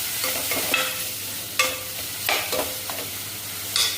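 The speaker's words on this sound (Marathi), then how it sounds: "तर ते मी पूर्ण मसाल्यावर फ्राय करून घेणार आहे. तेल सुटेपर्यंत सर्व साहित्य फ्राय करायचं आहे." A paste of roasted coconut and onion fries with spices in oil, giving a soft sizzle broken by several sharp scraping strokes of a spoon against the pan; no talking.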